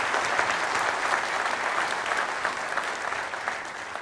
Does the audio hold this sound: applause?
yes